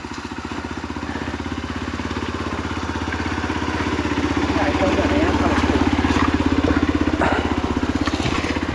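A motorbike rides a rough, stony trail that turns slippery in rain, its engine droning loud and close with a steady, throbbing note that swells slightly mid-ride.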